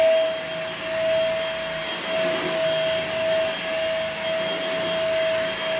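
A budget vacuum cleaner runs on its turbo setting, giving a steady, fairly loud whine with a sharp high-pitched tone that holds throughout, slight fluctuations in suction and nobody talking.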